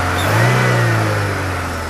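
A 2009 Chevrolet Lacetti with a 1.8 engine runs nearby, a steady mid-pitched hum that swells briefly as if lightly revved, then settles back to an even idle.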